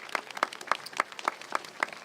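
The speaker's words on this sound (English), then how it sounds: "Let's give a nice round of applause again for all our students that participated." A small group clapping in a steady, evenly spaced rhythm at an outdoor Arbor Day school event, about seven sharp claps over two seconds, fairly close.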